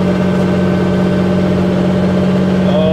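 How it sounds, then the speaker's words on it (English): Steady, close drone of a red John Deere tractor's engine under load at 93% power while travelling at 7.2 km/h, a constant low hum with no breaks and no talk. "It's a red John Deere."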